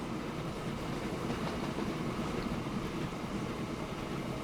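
A small wood-fired steam locomotive in the train game Transport Fever runs with a steady, even rumble and hiss that holds at one level throughout, with no talking.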